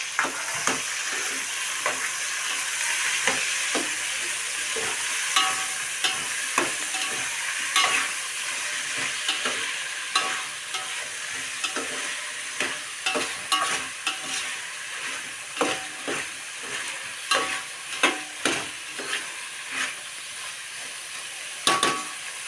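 Chopped tomato and coriander cook in a pot of sambar, giving a continuous sizzling hiss broken by frequent sharp clacks and scrapes of a spoon stirring against the metal pot, with no voices.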